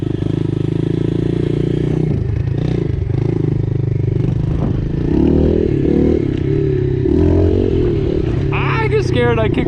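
Pit bike dirt bike engine buzzing loudly and steadily while being ridden, with rough revving and some clatter, heard up close with a voice talking over it.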